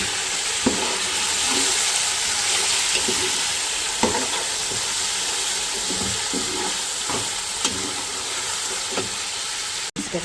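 Sliced tomatoes and finely chopped green chilies fry with beef for biryani, giving a dense, steady sizzle and hiss punctuated by occasional stirring clatters, close and fairly loud with no talking.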